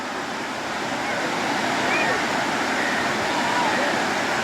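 A loud, constant rush of a waterfall pouring from above, a dense unbroken roar close by with no gaps.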